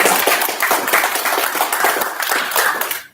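An audience at a medical college graduation ceremony breaks into loud, sustained applause for the graduates, dense rapid clapping filling the room before trailing off at the end.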